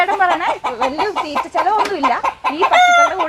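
A farmyard flock of some forty hens clucking close by in a busy, overlapping chatter with rising calls, one briefly straining toward a crow.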